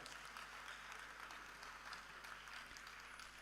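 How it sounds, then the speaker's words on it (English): An audience applauds at a mental health event, a faint continuous wash of many hands clapping heard at a distance. "If you are clapping, clap very well."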